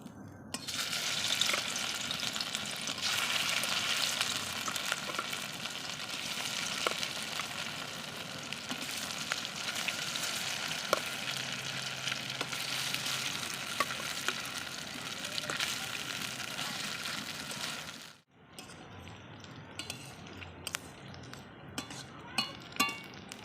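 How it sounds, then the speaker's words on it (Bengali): Paneer pieces frying in hot oil, a loud, even sizzle with occasional clinks that runs for most of the time, then drops sharply to a quieter crackle with scattered taps near the end. "এখন এই পনিরগুলো একসাথে ভেজে নেব একটা একটা করে।"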